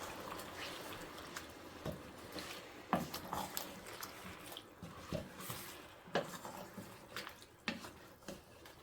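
A spoon works through potato and brinjal curry in a pot, giving soft wet scrapes and occasional light clinks against the metal, quiet and irregular.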